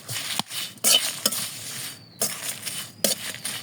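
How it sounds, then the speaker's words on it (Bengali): Whole spices being dry-roasted in a dry pan for a sweet mango pickle give off bursts of scraping, stirring and light crackle, close and intermittent with short pauses between strokes. "মশলাটা আমি এই যে শুকনা খোলায় ভালো মতো একটু তুলে নেব।"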